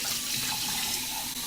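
Tap water runs steadily into a cooking pan, a brief close hiss and splash with no voices.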